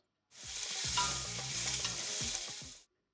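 Prawns sizzle in hot oil in a pan for a Sri Lankan curry, a loud continuous crackle broken by several scraping stirs, heard close and alone without talk.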